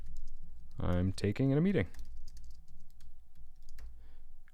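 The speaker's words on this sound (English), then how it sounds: "I can just start typing stuff" Computer keyboard typing as notes are entered into a OneNote page, light scattered keystrokes behind a short spoken phrase and a low steady room hum.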